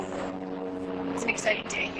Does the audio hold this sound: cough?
no